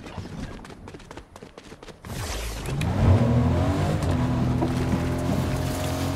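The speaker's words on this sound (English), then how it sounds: "I hear a car." A car in the video game Fortnite drives nearby, its engine cutting in abruptly after a stretch of quieter game ambience, then droning loudly with a steady, slowly rising tone.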